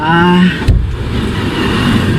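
A Nissan Sentra B14 engine runs with a loud, steady hum that carries a brief tonal whine at first, then settles into an even, close-up drone.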